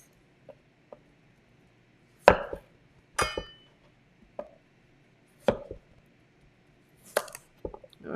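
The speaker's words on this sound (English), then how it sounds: "this is pretty big, so I'm actually gonna cut them into an eighth" A knife chops through a large vegetable on a cutting board with the seeds already removed, giving a handful of sharp, separate thunks spaced irregularly and heard up close with no talking.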